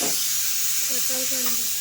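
Sweet potatoes boiling in a pot on a gas stove, giving a steady broad steam hiss throughout, with a faint higher tone or two rising briefly near the end.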